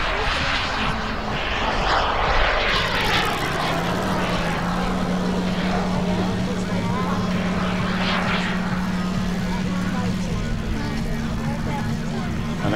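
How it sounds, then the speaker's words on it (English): Model turbine jet aircraft engines whine and roar as they power up at an air show at Weston Park, a rising drone sustained throughout, loud and continuous, with voices faintly underneath. "I can certainly hear a couple of other aircraft powering up right now."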